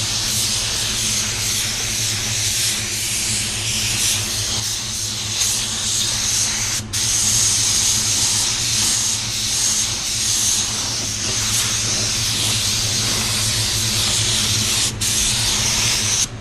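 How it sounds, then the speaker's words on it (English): A paint spray gun lays down pearl-white paint in a loud, continuous hiss close by. The steady spray runs almost without a break, dropping only for a couple of very short cuts. "here we're going to use the awesome spray pattern of this gun"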